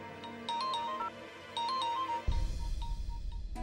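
A mobile phone ringtone plays a bright melodic chime pattern twice, then is cut off as the call is picked up, leaving low background rumble.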